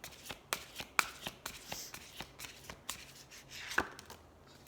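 Oracle cards being shuffled by hand in a quiet room, a string of crisp riffling slaps and flicks at an irregular rhythm, close and fairly faint, with no talking.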